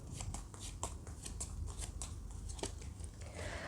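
Stack of tarot cards shuffled by hand during a card reading, a quiet, steady stream of soft riffling flicks and papery snaps over a few seconds, with no talk.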